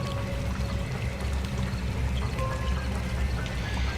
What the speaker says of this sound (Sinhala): පාළු කැලේ දොළ පහර අඳෝනා නගමින් ගලා යමින් තිබිනි.